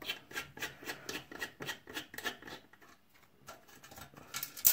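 Screws being driven into a PC optical drive during a desktop computer build, heard as a run of close, faint, rhythmic scraping rasps with a brief pause, then a few more turns.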